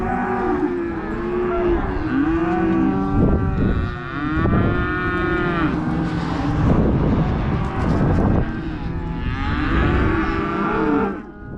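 Cattle on a Montana cattle drive mooing loudly and repeatedly, several long overlapping bellows close by, with wind rumbling across the microphone throughout.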